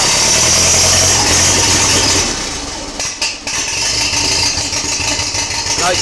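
Ferguson tractor engine revving loudly with a rough, knocking rumble, then dropping back to a steady, slightly uneven idle for the rest of the stretch, close by.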